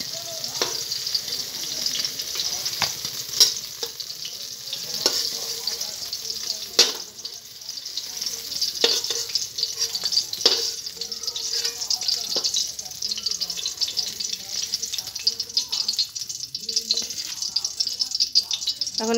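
Pointed gourd frying in hot oil, a dense continuous sizzle with scattered spatula taps and scrapes against the pan, close and steady throughout with no talking.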